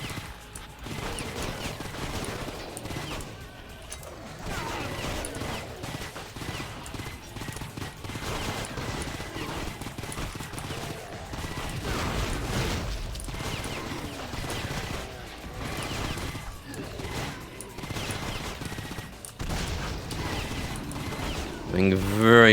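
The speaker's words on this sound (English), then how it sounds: "Now it's time to put the chain gun" A chain gun fires in Painkiller Hell & Damnation in a dense, continuous rattle of rapid shots, mixed with game impacts and explosions and with a voice talking over parts of it.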